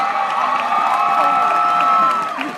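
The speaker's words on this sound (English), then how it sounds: "Big round of applause" A high school graduation crowd cheers and applauds loudly, with whoops and shouting voices over a dense wash of clapping that eases off at the end.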